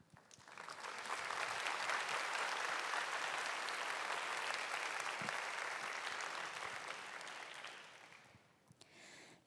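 A congregation at a young adults' church worship service gives sustained applause, a dense, even wash of many hands clapping that holds steady for several seconds, then thins out and stops.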